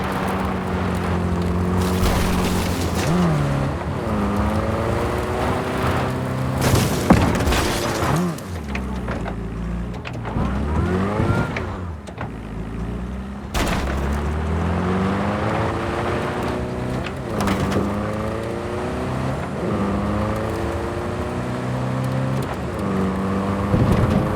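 A car engine in Cyberpunk 2077 revs up and climbs through repeated gear changes, rising and dropping in pitch as it drives, with a few brief heavy thumps along the way and no talking.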